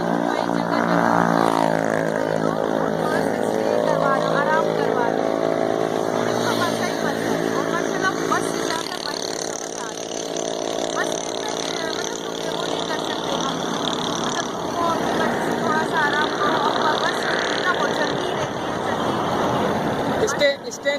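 A motorcycle engine drones steadily through a ride, its low hum running continuously under close conversation between riders.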